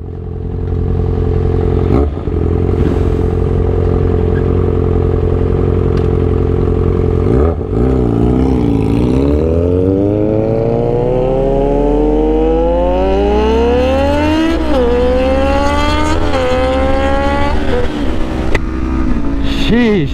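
Yamaha R6 sport motorcycle fitted with a new loud aftermarket exhaust, revving and accelerating through the gears with rising, sweeping engine pitch, close and very loud, with short bursts between climbs.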